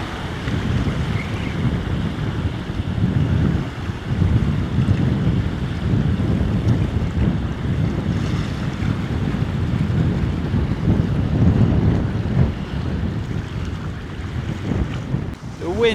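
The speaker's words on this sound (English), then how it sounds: "The wind is howling in." Strong wind of 25 to 30 miles an hour buffets the microphone beside a fast-moving river channel, a continuous loud roar and rumble that swells in gusts with no break.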